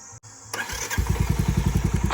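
A motorcycle kicks to life on a village path after a short cranking sputter, then settles into a close, steady, rapid thumping idle.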